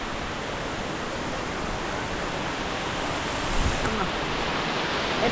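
A loud, unbroken roar of rushing water from Madassery Waterfalls fills the scene, constant and close by from start to finish.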